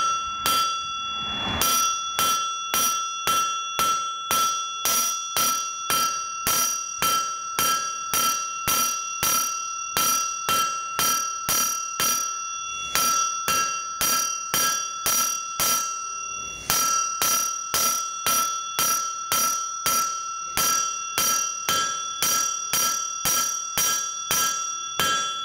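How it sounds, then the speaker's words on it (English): A hammer strikes a forged knife blade on the edge of an anvil, ringing out in a steady, evenly spaced series of sharp metallic blows, loud and close, with a couple of short pauses. "then I go to the edge of the anvil and hit this side of the blade."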